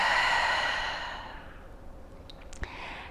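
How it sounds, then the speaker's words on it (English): A long, slow breath released through the mouth during a calm yoga flow, close and soft, fading out gradually over a few seconds with no talking. "exhale through the mouth"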